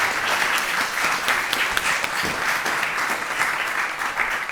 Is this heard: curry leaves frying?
no